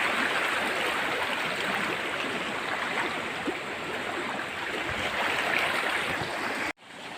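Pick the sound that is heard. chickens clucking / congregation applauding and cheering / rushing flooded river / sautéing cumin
rushing flooded river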